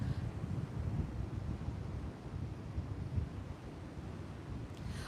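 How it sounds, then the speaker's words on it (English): Steady outdoor wind buffets a microphone on a breezy day in Peguera, Mallorca, producing a constant low, rumbling roar with no talking. "I cannot believe how windy it is over here."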